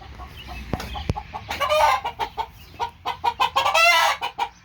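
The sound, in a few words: hen clucking in a chicken coop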